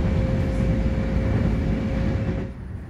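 Steady low rumble and rattle inside a moving Long Island Rail Road commuter car cruising up to 80 mph, continuous rolling noise with a faint whine, easing off near the end.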